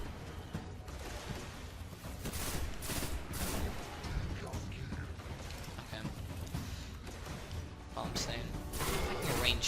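A long-range shotgun fires in the video game Destiny amid dense, nonstop combat noise, with heavy blasts stacking into a continuous roar of shots and impacts.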